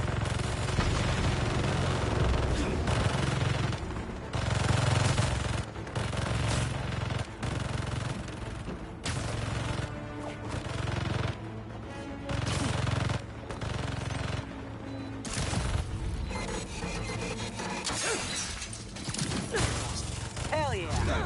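Turrets in the Spider-Man 2 video game fire loud, rapid machine-gun bursts in dense volleys that keep going for about twenty seconds, mixed with heavy game effects.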